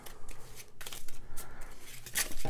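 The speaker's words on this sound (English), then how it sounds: "And then we will shuffle up the deck and do that all again." A deck of board game cards is shuffled by hand, a soft riffling and sliding sound heard close up with no talking.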